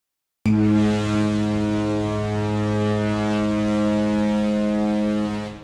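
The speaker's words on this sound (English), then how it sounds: "Here I have a ship foghorn" A deep ship foghorn blasts alone, one long loud sustained low tone holding steady for over five seconds before cutting off.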